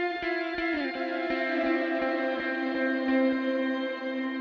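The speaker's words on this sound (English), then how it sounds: "I can hear the dry guitar tone and then the reverb comes a lot later than that" An electric guitar sounds sustained notes and chords through a reverb effect with long pre-delay, with repeated plucked attacks followed by a washy tail that lingers and fades.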